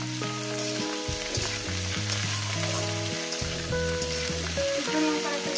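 Ivy gourd (kundru) frying in a hot pan with a steady, loud, continuous sizzle that runs throughout, while background music plays underneath.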